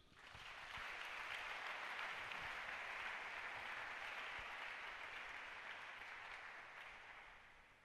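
A church congregation applauds Jesus with steady, dense clapping that swells in quickly and holds for several seconds before easing slightly, filling a large room with no talking.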